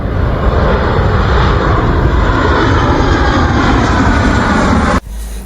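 A yellow toy airplane gives off a loud, steady engine roar that holds close and unbroken for about five seconds, then cuts off abruptly.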